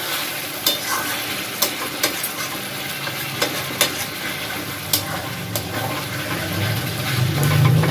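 A boal fish head stir-frying in a pan, with a steady close sizzle and frying hiss plus scattered sharp clicks of a spatula stirring, growing slightly louder near the end.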